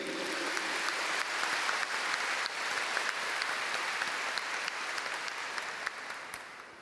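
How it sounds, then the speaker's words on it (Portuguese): A church congregation applauds during a Mass for the feast of Christ the King, giving steady, dense clapping from many hands that lasts several seconds and slowly tapers off. "Uma salva de palmas ao Cristo Rei."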